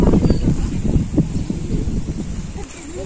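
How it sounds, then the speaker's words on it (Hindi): Steady wind blows outdoors at a roadside spot during a black cobra rescue, buffeting the microphone with a constant loud rush and low rumble, while voices murmur faintly underneath. "हवा चल रही है ना"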